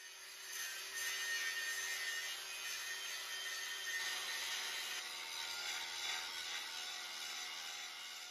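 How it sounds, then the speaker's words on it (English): An angle grinder works steadily on a steel weld on a large tractor wheel rim, giving a continuous, even grinding hiss without a break. "I'll grind that out, clean that up"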